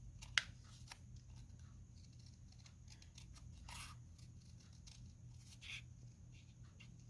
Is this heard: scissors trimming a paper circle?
yes